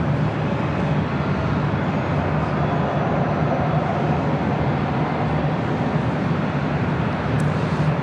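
A Spirit Airlines Airbus A320 jet departing runway 24 left at LAX, heard as a loud, steady, broadband engine roar that holds constant for the whole stretch with no talking.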